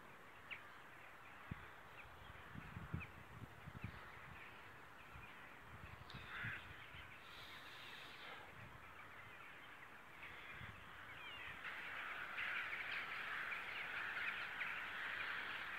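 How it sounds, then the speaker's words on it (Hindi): Crows caw repeatedly at an evening gathering spot where ducks also sit, the calls fairly distant and scattered over a quiet outdoor background that grows busier toward the end. "कुछ परिंदे यहाँ पे बैठे हुए हैं, कुछ बतखें और कौवे और"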